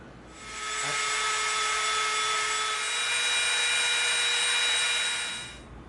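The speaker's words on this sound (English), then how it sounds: "we're going to hit these 2 top edges with the Dremel just to soften it up a little bit" A Dremel rotary tool rounds off the top edges of EVA foam, giving a steady high-pitched whine with a faint grinding rasp that rises in, holds evenly for about five seconds, then cuts off.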